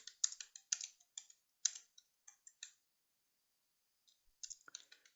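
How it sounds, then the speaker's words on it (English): A computer mouse clicks on a start attack button, with a run of crisp, close clicks, a few seconds of silence, then another quick cluster of clicks. "Step 6 is click on start attack."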